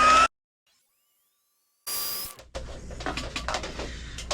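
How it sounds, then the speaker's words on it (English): Heat tool blowing onto white embossing powder during papercraft stamping, a steady loud hiss of hot air that cuts out briefly and then returns with shifting rustle and crackle. "I'm just going to heat this up with my heat tool."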